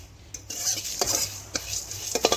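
Spice masala frying over a low flame in a pan, stirred with a utensil that scrapes and clinks against the metal in short irregular strokes over a soft sizzle, close and without talk.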